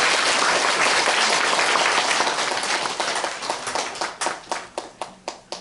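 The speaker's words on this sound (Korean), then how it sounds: "다시 한번 박수 한번 부탁드립니다" A church congregation breaks into loud, dense applause that gradually thins into a handful of separate, evenly spaced claps near the end, with no talking over it.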